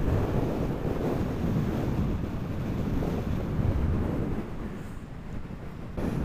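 Storm Brendan seas surging over and crashing against protective stonework in front of seafront houses, a continuous loud roar of surf heavily buffeted by wind noise on the microphone, with no talking.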